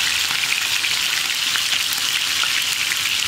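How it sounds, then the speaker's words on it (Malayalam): Fish sizzles in hot oil on a stovetop burner, a steady, dense crackling hiss that continues evenly throughout with no talking. "അതിനപ്പുറത്തെ ബർണറിൽ നമ്മുടെ സോള ഫ്രൈ ചെയ്യാനായിട്ട് എണ്ണ ചൂടാക്കാൻ വെച്ചിട്ടുണ്ട്"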